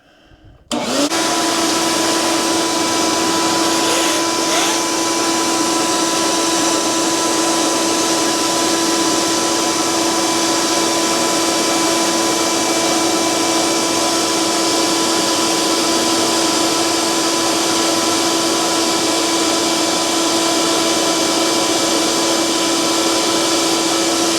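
A shop vac with a normal-size hose switches on after a brief click and runs as a loud, constant high-pitched roar with a steady whine for the rest of the time.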